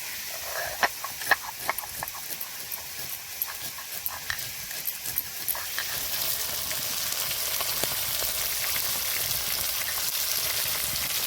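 Bhola fish heads fry in hot oil with a steady, dense sizzle and hiss, and scattered crackles and spatters are sharper early on before settling into continuous frying noise.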